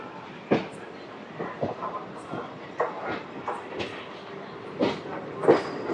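Vande Bharat express train running near Renigunta, heard from inside: a steady rumbling ride with irregular rhythmic wheel clicks and thumps over rail joints, close and moderately loud.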